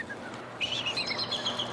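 Bald eagle calls near the Conowingo Dam, a series of high, thin chirping squawks that come in after a short pause and repeat quickly, moderately loud against steady background noise.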